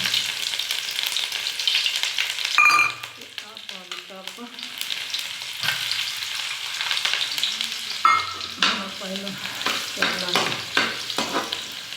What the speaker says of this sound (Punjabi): ਤੇ ਜੀਰਾ ਆਪਣਾ ਹਲਕਾ ਜਿਹਾ ਗਰਮ ਹੋਏਗਾ ਤੇ ਆਪਾਂ ਪਾ ਦਿੱਤਾ ਲਸਣ